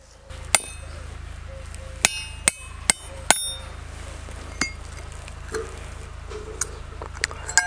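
An iron piece is punched through with a hard pointed tool while building a homemade water turbine: a series of sharp, close metallic strikes at irregular intervals, clustered early and sparser later, with no talking.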